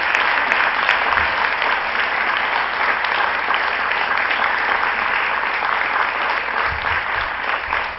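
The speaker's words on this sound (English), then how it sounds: "Could we at this time have another round of applause for all of our" A school board of education meeting audience applauds award recipients, giving a loud, sustained and even round of clapping from a sizable crowd that holds steady throughout before tapering at the very end.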